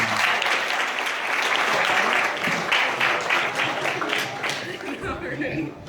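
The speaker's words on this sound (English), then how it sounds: "Let's have a nice round of applause for" Warm applause from a banquet audience at a soccer banquet held at Capriotti's in McAdoo, a dense, steady wash of many hands clapping close by that thins and fades slightly toward the end, with some voices mixed in.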